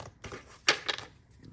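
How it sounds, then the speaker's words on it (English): A short burst of riffling and flicking from a deck of cards being shuffled up close, a quick flurry of papery snaps lasting about a second. "we're going to give this deck another quick shuffle."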